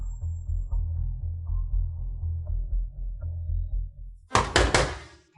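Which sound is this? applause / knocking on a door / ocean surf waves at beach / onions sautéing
knocking on a door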